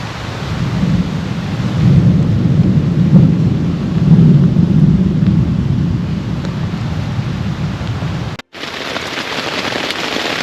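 Heavy rain pours steadily at night in an Algonquin campsite during a thunderstorm, with a deep rolling thunder rumble swelling and fading through the downpour, then a brief dropout before the rain continues.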